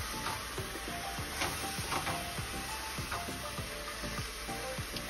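Meat for a jibarito frying in a pan: a dense, continuous sizzle with fine crackles, close and steady throughout, no voices.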